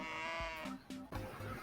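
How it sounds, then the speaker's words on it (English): A goat bleats once with a wavering, nasal cry, close and clear, followed by a few short muffled thumps and handling noises. "It's a goat."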